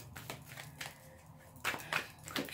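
Tarot cards shuffled by hand in a few short bursts of papery riffling, close and moderately loud, with quieter gaps between the bursts and no talking.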